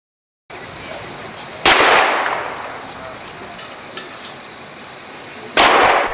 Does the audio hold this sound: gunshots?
yes